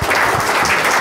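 Audience applause at a startup pitch event, a short dense burst of many hands clapping at once, loud and close.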